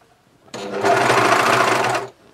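A Juki MCS1500 coverstitch machine running in one steady burst of about one and a half seconds, its loud, even mechanical whir starting and stopping sharply in a quiet room.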